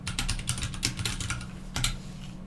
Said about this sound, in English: So I will just hit F2 on my keyboard